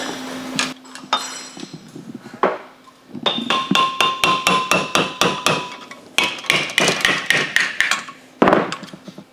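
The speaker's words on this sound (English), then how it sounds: "Normally don't have to beat them all the way through. Shh! Don't tell Kyle I'm using a screwdriver." Metal-on-metal hammer blows drive valve guides out of an engine cylinder head with a screwdriver used as a punch, rapid ringing strikes in bursts with short pauses, loud and close.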